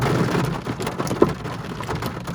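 Heavy rain pours down in a dense, steady hiss with scattered louder drops and splashes, loud and close, no voices.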